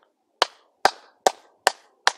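Five sharp hand claps at an even, unhurried pace, each followed by a short reverberant ring in an enclosed stone space at the Cantona archaeological site, Puebla.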